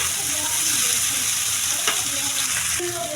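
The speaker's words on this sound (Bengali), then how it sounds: "এখন নাড়া দিয়ে মিশিয়ে দেব সব কিছু।" Chow mein noodles sizzle steadily in a hot frying pan as they are stirred and mixed, a dense, constant frying hiss with faint scraping strokes throughout.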